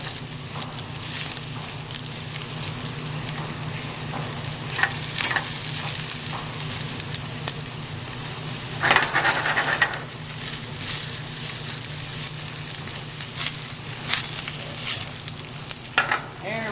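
Spinach sautéing in a pan over a gas stove, a steady crackling sizzle running throughout with occasional bursts of stirring, close and even in loudness.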